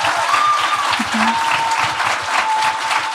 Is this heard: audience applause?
yes